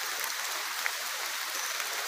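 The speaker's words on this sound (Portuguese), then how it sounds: "Chuva, galera." Rain falls outdoors during an armadillo hunt, a steady, even hiss of showers with no other distinct sounds.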